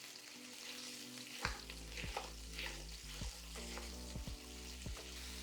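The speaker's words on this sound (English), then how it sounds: "I'm gonna take a potato masher, and we are going to break up the meat." Ground lamb sizzles steadily in a hot pan while a potato masher breaks it up, sharp scraping knocks striking every second or so over the continuous frying hiss, close and fairly loud.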